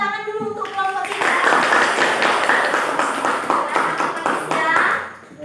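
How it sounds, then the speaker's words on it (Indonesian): Classroom clapping for a group of students, a burst of many hands applauding together right after a teacher's short spoken line, loud and steady for several seconds before fading out. "tepuk tangan dulu untuk kelompok kita."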